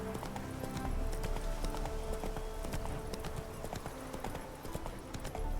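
Roach the horse gallops in The Witcher 3, hooves clip-clopping in a quick, steady rhythm over game ambience, moderately loud and close, with no talk over it.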